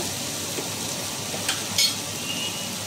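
Onion and tomato fry in a pan with a steady, fairly quiet sizzle, broken by a couple of brief clinks or stirring touches partway through.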